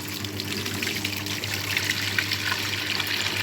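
Water draining steadily from a scrap washing machine straight into a drain, a continuous trickling, splashing flow over a low machine hum, close and fairly quiet with no talking.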